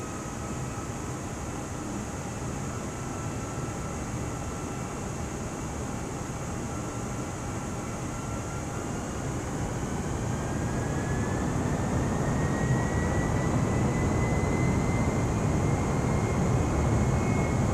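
A fixed-wing aircraft engine hums steadily in Microsoft Flight Simulator 2020, a faint broadband drone with a thin tone that climbs slowly as the throttle changes, no voices.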